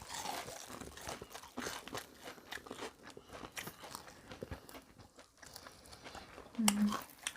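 Crisp crunching bites of Kyochon Real Fried chicken drumsticks, with several family members chatting and murmuring over the eating.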